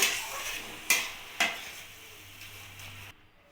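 Chicken being stirred with a paste of cashews, melon seeds and yogurt in a pan, giving three sharp scraping strokes followed by soft continuous mixing and a faint low hum, with no talking.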